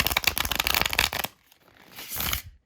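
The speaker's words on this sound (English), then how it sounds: "So let's go ahead and give these a shuffle." A tarot deck is riffle-shuffled close by: a dense, crackling burst of flicking cards for over a second, then a softer rustle as the deck is bridged and squared.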